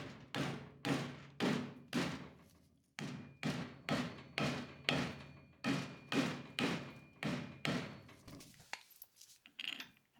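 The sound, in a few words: mallet tapping a part on a VW barn-find car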